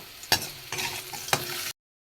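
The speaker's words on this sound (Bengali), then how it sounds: "ভালো করে একটু ভেজে নেব।" Pumpkin pieces fry in oil in a pan with a soft steady sizzle, broken by a few sharp scraping stirs close by. It ends abruptly in silence, with no talk.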